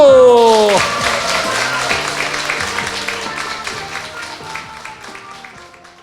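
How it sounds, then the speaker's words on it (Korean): A studio audience on a talk show claps in a lively burst beneath a loud musical sting, the clapping steady and fairly close while a tonal jingle plays over it and gradually fades. "박수!"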